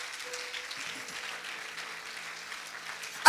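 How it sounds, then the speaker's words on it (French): Applause from a church congregation, a steady dense patter of clapping that holds at moderate level throughout, with a faint sustained tone in the background. "Acclame pour le Seigneur, bien-aimé."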